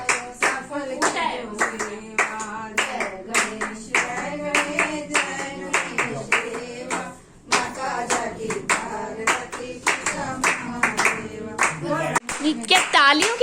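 Rhythmic hand clapping keeps time through a Ganesh aarti at a home Diwali puja, steady and close, with singing voices and a voice mixed in.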